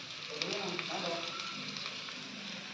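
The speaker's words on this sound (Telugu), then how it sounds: "ఇలా వేగినాయి కదండి, సగం వేగిన తర్వాత దీంట్లో బీరకాయ ముక్కలు వేద్దాం" Vegetables frying in a pan with ridge gourd pieces make a faint, steady hiss and sizzle throughout, with possible soft voices beneath.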